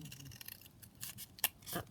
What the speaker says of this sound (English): they're overhanging my edge quite a bit, so I just need to trim them down